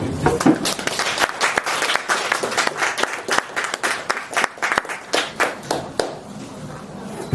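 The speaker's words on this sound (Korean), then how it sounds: "큰 박수 부탁드립니다" A concert audience at a hanok music event applauds, many hands clapping in a lively burst that thins toward scattered claps, with some voices mixed in.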